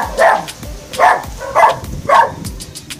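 Outdoors near old mansion ruins in St Thomas, Jamaica, a dog barks four times in a steady rhythm, loud and fairly close, with no talk.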